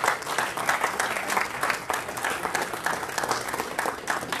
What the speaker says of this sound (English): How about just a round of applause for this great gentleman?